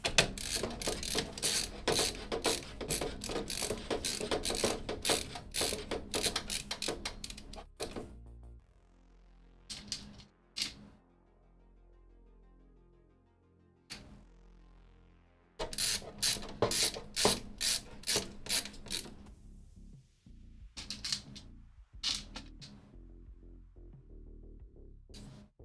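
Screws are driven and tightened while a budget gaming PC with an RTX 4060 Ti and a Ryzen 5 7600 is built. Long runs of rapid ratcheting clicks sound close, then a quieter pause, then more bursts.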